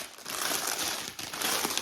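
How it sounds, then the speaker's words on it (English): Plastic bag packaging around Lululemon leggings crinkles and rustles close up, a dense, busy crackling that carries on throughout with no voices over it. "This one's packaged up in a plastic bag."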